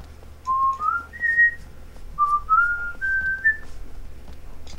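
A person whistles a tune alone and fairly close, a bright rising melody in two short phrases of sustained notes over low background hum during game play.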